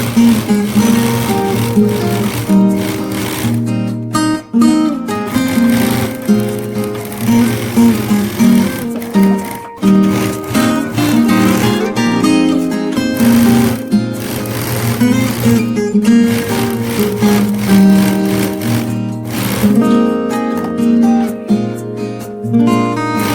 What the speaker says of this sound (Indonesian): lalu kampuh diobras menggunakan obras tutup, dan pada bagian bawah rok juga diobras